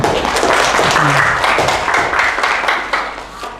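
Applause from a classroom audience after a group presentation at a university teaching exam, a dense patter of hands clapping at close range that tapers slightly near the end, with faint voices underneath.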